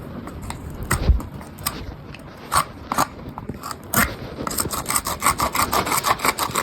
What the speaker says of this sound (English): Now I'm gonna go get the hoof pick. Now I'm just gonna pick up his hoof.